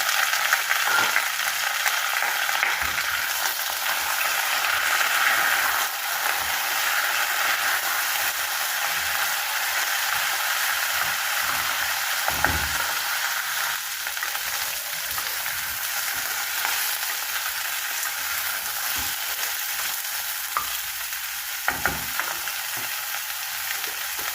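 Broccoli and potato sizzle in hot oil tempered with spices, a steady, fairly loud frying hiss that runs throughout, with occasional stirring knocks and scrapes against the pan and no voices.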